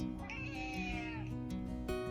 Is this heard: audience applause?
no